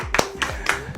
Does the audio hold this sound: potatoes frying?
no